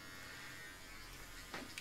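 An electric shaver buzzes in a steady, fairly faint drone with a brief louder rasp near the end.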